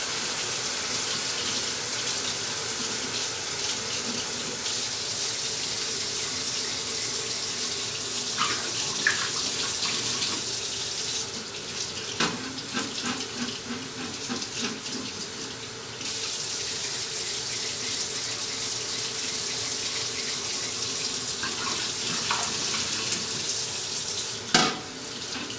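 Bottles are rinsed with water before bottling, a continuous rushing and splashing stream like a running tap, with occasional clinks and knocks as the bottles are handled.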